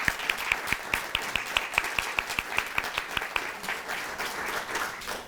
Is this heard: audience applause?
yes